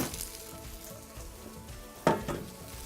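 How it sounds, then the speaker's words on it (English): Carrots coated in olive oil sizzle steadily in a preheated hot pan at a woodfired oven, a soft frying hiss with a couple of sharper bursts as they land, no talking. "In they go with a bit of a sizzle."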